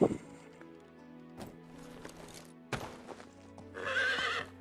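A horse whinnies loudly near the end in the game Medieval Dynasty, preceded by scattered hoof clops and thumps over a low steady hum of game background sound.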